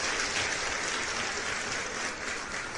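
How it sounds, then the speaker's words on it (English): Sustained applause from a crowd, a continuous wash of clapping at moderate level that holds steady throughout with no speech over it. "We had to wait on the applause, man."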